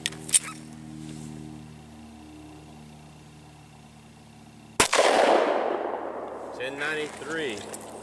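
A single loud Hornady Critical Defense 9mm round fires through a 4-inch barrel during velocity testing, a sharp crack followed by a rumbling decay and faint trailing noise after a quiet stretch.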